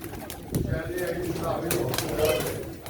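Pigeons coo softly in the background while a man auctioneers over them at a pigeon auction in Çorum, Turkey.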